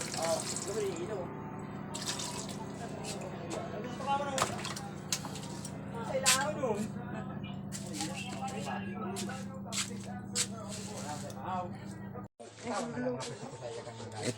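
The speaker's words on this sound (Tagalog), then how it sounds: "Lagyan natin ng kunting tubig para hindi siya matutong." Water is poured from a tap into a cooking pot holding mud crabs, running and splashing steadily for several seconds beside clinking and shuffling, with people talking throughout.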